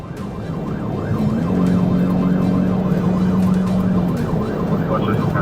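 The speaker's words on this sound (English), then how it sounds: "When lights and siren were activated" Police car siren wailing steadily during a high-speed pursuit of a fleeing SUV, its rising and falling tone looping continuously over loud road and engine noise throughout.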